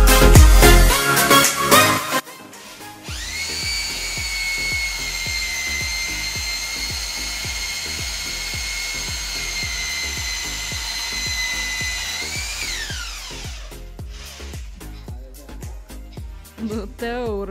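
A power drill at a private house under construction in Jelgava whines at a steady high pitch for about nine seconds, then winds down. Knocks and clatter come before and after it.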